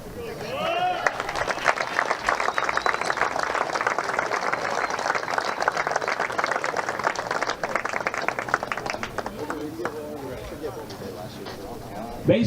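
A baseball crowd at a Lynchburg home game applauds and cheers steadily for the graduating seniors, a broad sustained wash of clapping from the stands lasting about ten seconds before fading.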